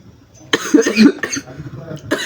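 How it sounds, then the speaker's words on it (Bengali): A person giving a political speech coughs hard several times at close range. The coughs come in a cluster of harsh bursts, then a short pause, then one more cough. "ভাই কাশির জন্য ঠিক ভাষণ দিতে পারছি না"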